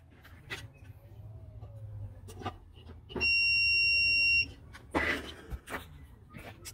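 An electrical tester checking ground-wire continuity on a generator installation in a converted school bus gives one sustained high electronic beep lasting about a second, among soft handling noises and a faint voice.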